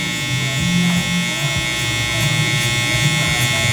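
Electric hair clippers with a half guard and adjustable lever cutting hair during a low taper mullet, a steady close buzzing hum with slight changes in pitch as the blade moves.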